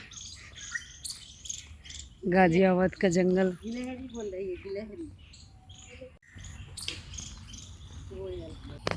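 Insects and birds in a Ghaziabad forest: a dense, steady cricket buzz with bird chirps, while someone speaks over it and loud warbling calls break through near the middle.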